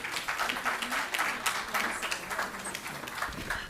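Applause at a 1995 batch alumni reunion event, a crowd clapping steadily with uneven swells, fairly close and continuous throughout.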